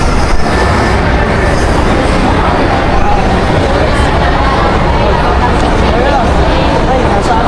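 Loud, continuous rumbling of a train interior or platform, a dense steady roar with murmuring voices mixed in throughout.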